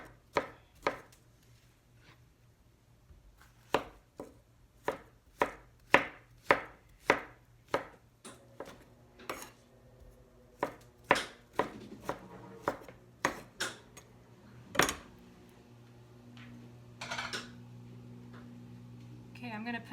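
A knife slices Roma tomatoes on a cutting board, giving a string of crisp, evenly spaced chops close by. Each cut lands as a sharp knock on the board, some come in quick runs, and a faint hum sits under them.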